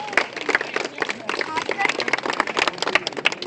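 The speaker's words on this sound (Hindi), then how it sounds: "जोरदार तालियां ग्राम सभा प्रधान देवलार के लिए।" Applause for a village head at a road inauguration ceremony in India, a burst of dense, uneven clapping from a crowd lasting a few seconds with murmuring voices mixed in.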